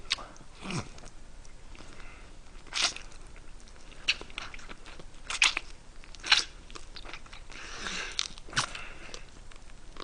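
Fried chicken gizzards being eaten, with repeated crunchy bites and chewing at irregular intervals, close and fairly quiet, no talking.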